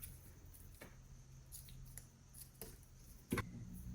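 Scissors cut through fabric for sewing shorts, a few faint, sharp snips spaced irregularly against quiet room background, with one slightly louder cut near the end.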